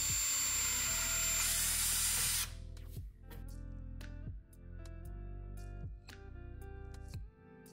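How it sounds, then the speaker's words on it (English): A power drill boring a hole between IKEA cabinets and a platform bed base, first a loud steady whine for a couple of seconds, then several short bursts of motor run with pauses between, close up with no talk. "The very first step is to drill the hole between the cabinets and the foundation"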